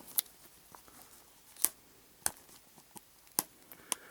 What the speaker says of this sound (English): Get it out of this cellophane wrapper.